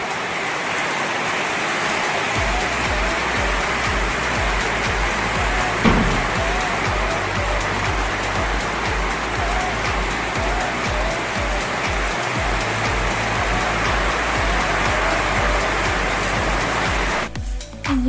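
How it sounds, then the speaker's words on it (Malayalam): Heavy rain pours steadily on a Kerala home, a dense, loud hiss of drops on surfaces that continues unbroken for the whole stretch, with faint background music and no speech. "ഇന്ന് നല്ല മഴയാണ്."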